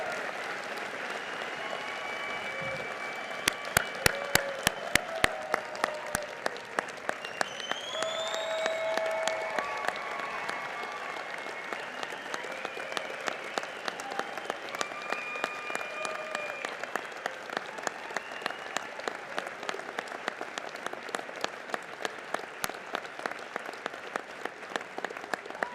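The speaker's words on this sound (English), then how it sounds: "I think a collective applause for this entire group is warranted." Audience applause at a 2022 School of Medicine and Health Sciences degree ceremony: a large crowd claps loudly and steadily for over twenty seconds, dense and sustained, with faint crowd noise beneath.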